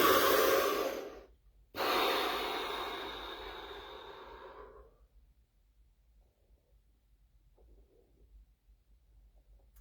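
During a guided relaxation exercise, a single long deep breath is drawn in, briefly held, then released slowly in a long exhale that fades into near silence.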